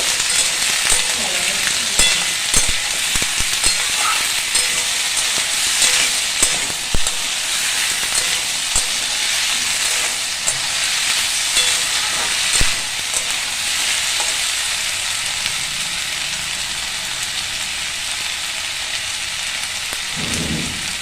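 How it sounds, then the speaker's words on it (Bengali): A ginger, chilli and cumin paste is sautéed with fig dalna in a pan, making a loud, unbroken sizzle like heavy rain. Irregular scrapes and knocks of a spatula stirring the pan sound up close for over twenty seconds. "কিছুটা শাক ডুমুরের ডালনাটাতে দেবো। এরপর ভালো করে কষাবো।"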